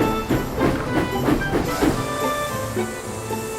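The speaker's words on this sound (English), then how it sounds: "Later, Rosie puffed into the yard." A small diecast toy steam locomotive chuffs in quick, even puffs that slow and fade toward the end, with a faint high whistle-like tone lingering.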